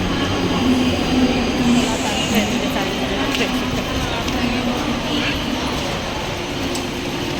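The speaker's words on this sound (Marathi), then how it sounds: "पनवेल जाणारी ट्रेन आली आहे" A Panvel-bound train rumbles and rattles into a busy station, a steady rolling roar with faint squeals, while people talk nearby.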